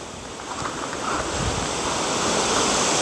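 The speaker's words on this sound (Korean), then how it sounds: "어우 바람 제법 불죠" Strong wind blows across the microphone outdoors on a rainy day, a loud, constant broadband roar that swells slightly and holds steady without any voices.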